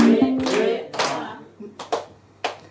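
Hand claps at a church celebration festival in Paris, a few loud separate claps and short bursts of clapping close by, with a brief voice near the start.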